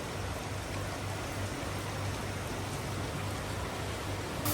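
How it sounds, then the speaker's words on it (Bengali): Steady rain pours down in Dhaka, a dense, even hiss of drops that holds at one level throughout, with no voices present. "বলতে না বলতেই ঢাকাতেও বৃষ্টি চলে আসছে।"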